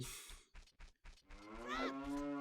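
A cow in the video game Ocarina of Time gives a drawn-out moo after a few short rhythmic game sound effects, the low call swelling and holding near the end, clear and alone with no voice over it.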